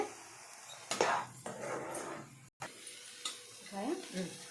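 Ginger-garlic paste and turmeric fry in a pan for green chicken curry, with a low sizzle broken by spatula scrapes and clinks against the pan; a voice speaks intermittently over the cooking.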